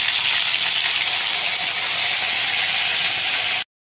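A ground paste of cumin and green chili hits hot oil in a pan and sizzles loudly and steadily at close range, a dense frying hiss that cuts off abruptly near the end.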